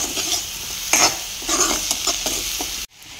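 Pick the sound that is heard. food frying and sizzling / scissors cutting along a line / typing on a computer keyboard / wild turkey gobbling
food frying and sizzling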